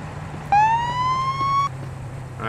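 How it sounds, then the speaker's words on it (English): A single video-game police car siren wail in Police Simulator rises and holds for about a second over a steady engine rumble, loud and close, then cuts off abruptly. "Alright, that's the siren."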